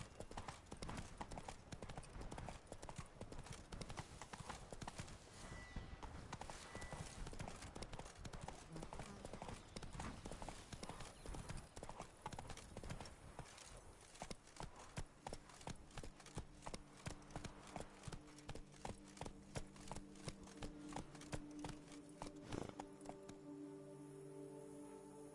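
In The Witcher 3, a horse's hooves gallop in a fast, rhythmic clip-clop that later becomes sharper and more distinct as individual footfalls stand out.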